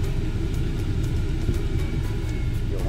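Loud, steady air conditioning blower inside a 2015 manual-transmission 1.5-litre car, a constant low rumbling whoosh filling the cabin without pause and with no talk over it.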